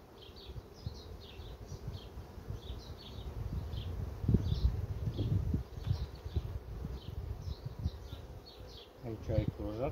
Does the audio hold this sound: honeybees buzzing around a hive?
yes